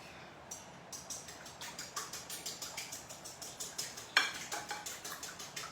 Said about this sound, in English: And then you can use your whisk.